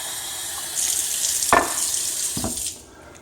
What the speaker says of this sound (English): I'm just going to put a little bit of tap water in there.